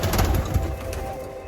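Racing pigeons in a breeding loft coo softly and steadily at close range, a low murmuring burble with a few louder pulses near the start, and no voices over them.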